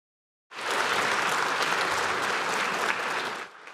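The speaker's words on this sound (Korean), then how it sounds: "이 대통령이 연단에 서자 환호가 터져나오고" Lawmakers in the South Korean National Assembly chamber break into applause and cheers, a dense, steady burst of clapping that starts abruptly from silence and tapers off after about three seconds.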